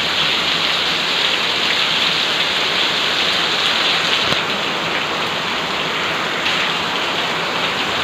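Heavy monsoon rain pours down steadily at a Gujarat dairy farm, a loud, dense, unbroken hiss of water drumming on surfaces close by, with no voices heard.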